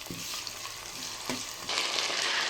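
A biryani base fries in a pan with a steady, crackling sizzle, punctuated by a couple of stirring scrapes and growing a little louder toward the end.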